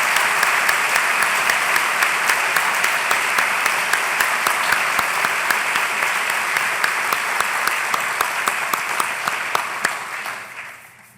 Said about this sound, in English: Please give these achievements and all the others I do not have time to mention a stirring round of applause